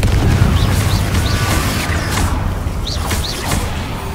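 Confringo spell blast in Hogwarts Legacy: a loud booming burst with crashing debris and a rumbling low tail, followed by faint whooshing and chirping effects.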